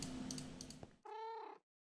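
A Minecraft cat gives a single clear, close meow after a second of game noise, then silence.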